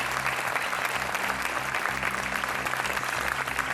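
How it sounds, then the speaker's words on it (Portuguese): Studio audience applause on a television quiz show, a sustained, even roar of many hands clapping that holds steady throughout, with a faint low hum of studio music beneath. "Então recebe mais 5 segundos de palmas só porque sim"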